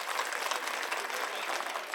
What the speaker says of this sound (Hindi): ताली बजावा सब जने।